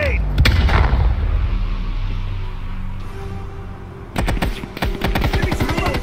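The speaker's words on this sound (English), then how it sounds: "Grenade!" Grenade blast in the Call of Duty Black Ops Cold War shooter, a loud booming burst near the start with a long rumbling tail, then more sharp gunfire bursts toward the end, with a voice briefly heard.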